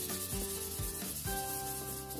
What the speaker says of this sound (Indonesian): Nah seluruh bagian ini aku amplas keliling